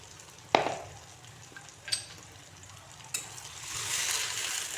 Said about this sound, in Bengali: এখন মশলাটাকে একটু কষিয়ে নেব।